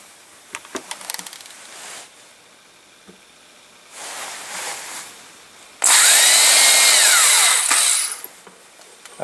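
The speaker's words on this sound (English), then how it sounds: "Now I'll drill 2 holes for the eye screws." A power drill drilling holes in a 20-pound weight for eye screws whines in short bursts, then runs loud and steady for about two seconds before stopping; no talking.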